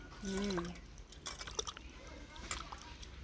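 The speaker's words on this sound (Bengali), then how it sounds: "এবার একটু উষ্ণ উষ্ণ জল দিয়ে ধুয়ে নিই গরম জল দিয়ে একটু ধুয়ে নিই" Rita fish being rinsed in warm water, with soft drips, splashes and trickling throughout, faint and close, under a brief low hum near the start.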